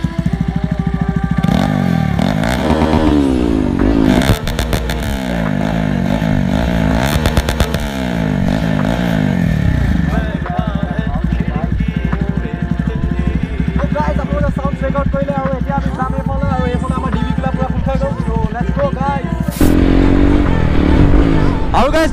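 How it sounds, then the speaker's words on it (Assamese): A Hero XPulse 200 motorcycle with its exhaust dB killer removed revs repeatedly from neutral, loud and close, with sharp rising and falling engine sweeps, then settles into a rough idle before one more blip; a voice talks at times. "ডিবি কিলাৰ খুলি দিয়াৰ পিছত চাউণ্ড চেক আউট কৰক না"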